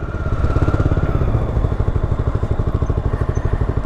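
A MASH Dirt Track 650 motorcycle runs close by, its engine throbbing in a loud, steady, rapid chug without pause.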